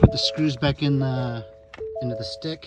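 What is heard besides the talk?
vehicle chime dinging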